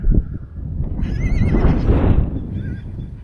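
A horse whinnies loudly with a quavering, wavering neigh, then a shorter second call, over low rumbling and hoof noise nearby.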